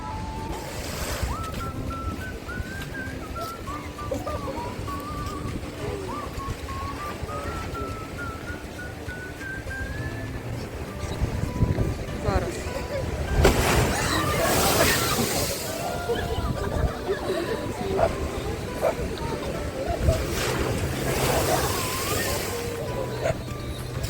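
Stormy sea surf rolls steadily at Odesa on the Black Sea, with wind buffeting the microphone and louder, closer wave crashes surging in the second half; a voice speaks briefly over the roar.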